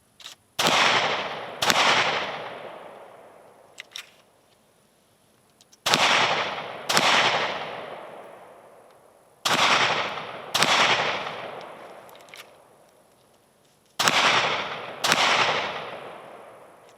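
Gunshots from a Kel-Tec PMR30 pistol being tested for feeding problems: sharp, loud reports in pairs with ringing decays and gaps between, the pistol heard firing six shots with faint handling clicks in between.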